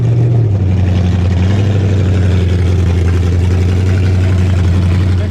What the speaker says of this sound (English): Next race is against the Foxbody Mustang, blue and white. It sure is loud.